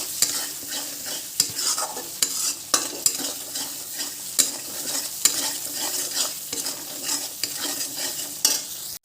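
Hilsa fish curry being sautéed and stirred in a pan, a steady close sizzle with repeated sharp scraping strokes of a spatula roughly every second, no talking.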